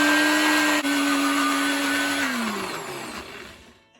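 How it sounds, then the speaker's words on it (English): A blender whirs steadily at high speed, grinding fish marinade ingredients with salt into a paste. After a brief dip the motor hums on, then winds down and slows to a stop, loud and close with no voices. "So now we're going to blend this into a paste."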